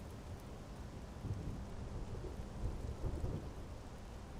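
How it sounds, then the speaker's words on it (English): Steady rain falling with low rumbles of thunder rolling through, a dense continuous wash of drops over deep booming swells, fairly quiet and distant with no voices. "And it's raining."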